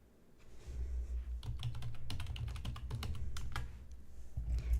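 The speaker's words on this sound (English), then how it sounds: "I'll type it in the chat so you can see how it's spelled" Rapid typing on a computer keyboard during a live online crystals session, a dense run of close keystrokes with brief pauses in between.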